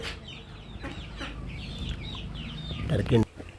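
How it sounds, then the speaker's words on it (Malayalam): Chickens and chicks at a farm nursery cluck and peep in a busy, continuous chatter of high chirps, with a louder burst of clucking near the end and faint voices in the background. "കോഴിക്കുഞ്ഞുങ്ങളുണ്ട്,"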